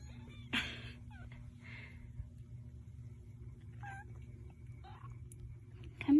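Newborn kittens from a litter of nine, mewing in a few short, thin calls scattered across a quiet indoor room, with soft background hum and no talk.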